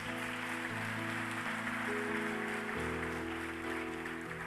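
A church congregation applauding: a steady patter of clapping that stays even throughout, heard under sustained organ or keyboard chords, with no speech.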